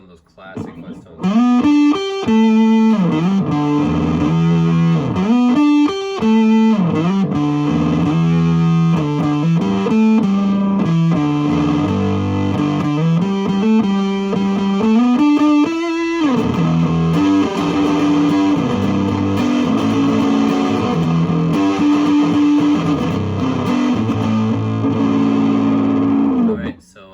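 Heavily fuzzed electric guitar through a BBE Windowpane pedal plays a loud riff of gritty chords and sliding notes, then settles into sustained saturated chords in the second half, steady and close with no voices.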